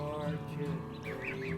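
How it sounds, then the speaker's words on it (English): A small group of wood ducks and redhead ducks gives a few close, soft quacks and squeaky calls over a steady background hum, with no talking. "There's the ones there's 5 wood ducks and 5 redheads and 1 wood duck."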